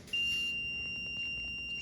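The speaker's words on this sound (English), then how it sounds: "the buzzer will begin to buzz" A piezo buzzer in an ultrasonic sensor circuit with an LED and micro servo gives a steady electronic tone that holds from start to end, loud and alone with no talking.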